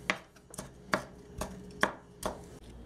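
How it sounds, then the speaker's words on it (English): A knife dices a Roma tomato on a cutting board, giving about six crisp, evenly spaced chops roughly every half second, close and clear with no voices. "I'm just going to cut up a Roma tomato quick. Into small little dices,"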